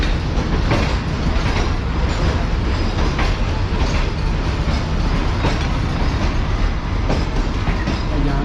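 The Tezgam passenger train rolls alongside a station platform, a loud, steady rumble of railcars with faint rhythmic wheel clicks running continuously throughout.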